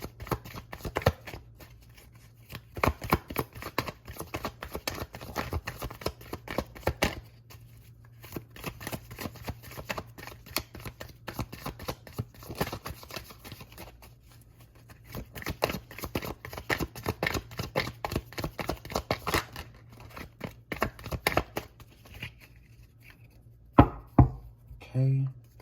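A deck of tarot cards being shuffled repeatedly in close, crisp riffling bursts, with short pauses between rounds and a few soft handling knocks at the end.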